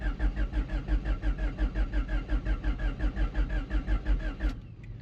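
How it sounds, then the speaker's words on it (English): A 1989 Honda Prelude engine cranks over on the starter with a steady, even rhythmic chug for about four and a half seconds, then cuts off abruptly without starting. "That was a healthy crank."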